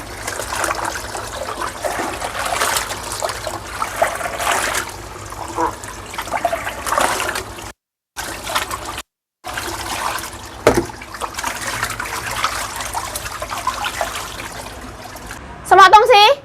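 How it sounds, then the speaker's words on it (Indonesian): Hand-washed clothes are rinsed in water, with continuous splashing and sloshing close by, briefly cut off and resuming, while people talk over it. "Kalau baju dicuci pakai tangan, tinggal dibilas."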